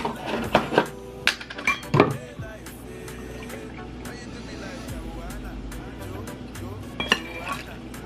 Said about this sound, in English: And keep stirring it around.